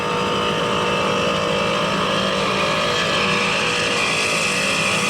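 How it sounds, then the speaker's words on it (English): Powerful racing powerboat engines roar continuously at high revs, loud and close, a thick sustained drone with no voices, at a 1983 APBA race in Detroit, Michigan. "Just listen to those motors"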